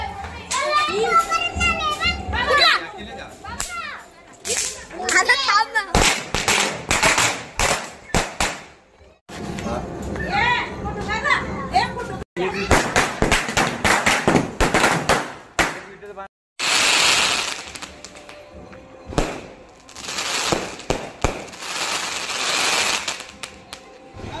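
Sharp crackling bursts of firecrackers go off at a village fair palanquin procession amid a lively crowd of children's and adults' voices outdoors.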